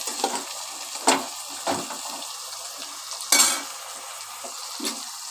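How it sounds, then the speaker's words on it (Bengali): Kabuli chickpeas being fried and stirred with spices in a pan, with a faint steady sizzle under scattered clinks and scrapes of a spoon against the metal, a few louder knocks standing out. "কাবলি ছোলাগুলো দিয়ে একবারে মশলার সাথে ভালোভাবে কষিয়ে নিতে হবে।"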